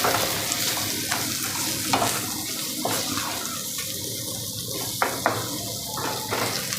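Potatoes, asafoetida and Kashmiri red chilli powder are stirred in a pan with soft scraping and light sizzling, a few sharper clinks of a spoon against the metal.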